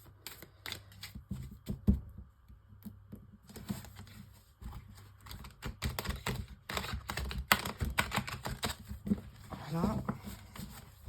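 Tarot cards being shuffled for a five-card spread, producing rapid, irregular clicking riffles and card slaps close by, with some talking mixed in.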